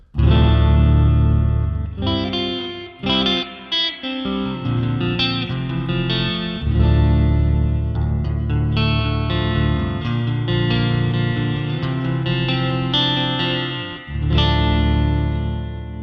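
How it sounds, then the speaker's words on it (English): Electric guitar through a Positive Grid BIAS X spring reverb playing a slow chordal passage with a washy, springy reverb tail, sustained notes ringing out loud and alone. "Let's go for a spring reverb, see how that sounds."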